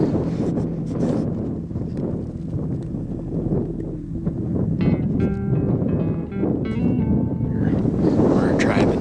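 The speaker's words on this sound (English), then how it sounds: "Up here on the top, the wind's blowing" Wind blows steadily across an open mountain top in Montana, a constant rushing buffet against the microphone with intermittent rattling and clicking sounds, while someone talks throughout.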